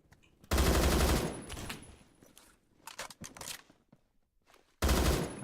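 Automatic gunfire from a gun in the shooter game Phantom Forces: two loud sustained bursts at start and end, with scattered shorter shots and footsteps between.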